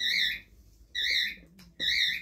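Pet bird squawking at close range, three loud harsh rasping calls in steady succession with short gaps between them.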